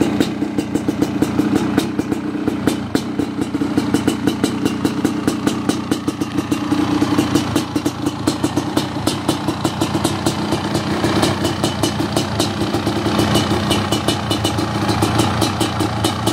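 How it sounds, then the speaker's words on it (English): A Honda CR500 two-stroke dirt bike idling cold with a new Pro Circuit pipe, a loud, close, uneven rapid thumping with a rattly, clattering edge that holds steady throughout, no voices. "This bike starts first kick every time. Bone cold. Pipe sounds great."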